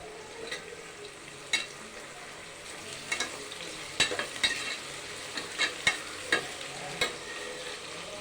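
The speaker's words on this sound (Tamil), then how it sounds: "ஒரு நாலு நிமிஷம் வதங்கட்டும் மிளகாய் போட்டு மூணு மிளகாய்" Chillies sizzle and crackle as they sauté in hot oil in a pan for tomato rice, with steady frying hiss and several sharp, close stirring clinks and scrapes of a spoon against the pan.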